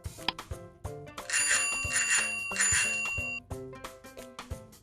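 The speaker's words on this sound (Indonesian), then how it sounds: "Sepeda," A bicycle bell rings in about three quick bright bursts, clear and close, over light background music that plays before and after.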